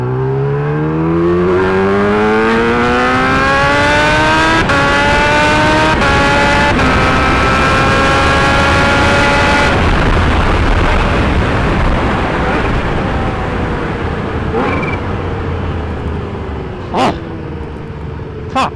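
Kawasaki Ninja H2 motorcycle roaring loudly as it accelerates hard through the gears past a car, engine pitch climbing repeatedly with shifts, then settling into a steady high-speed drone with wind rush.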